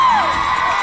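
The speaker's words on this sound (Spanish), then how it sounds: "¡Un aplauso para Dylan!" A large audience cheers and whoops loudly for a guest at a Disney Channel Games team introduction, a sustained crowd roar with a rising-falling shout at the start, no clear clapping.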